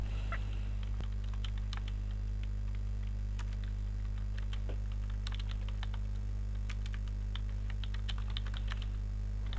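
Fingers type a prompt into ChatGPT on a computer keyboard, an irregular patter of light key clicks over a constant low electrical hum.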